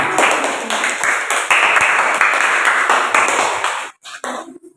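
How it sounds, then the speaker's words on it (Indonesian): A classroom of students claps hands together during a lesson, producing a loud, busy patter of claps that stops abruptly near the end, leaving a few brief sounds and a short voice. "Yo, tepuk tangan."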